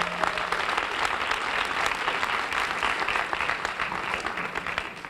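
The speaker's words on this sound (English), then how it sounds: "Let's give them a round of applause." Sustained applause from an audience at a school assembly honoring returning consultants, a dense, steady patter of many hands clapping that holds evenly loud for several seconds.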